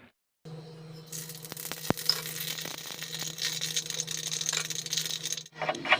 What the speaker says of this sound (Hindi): मैं इडली में ना तड़का लगा दूँगी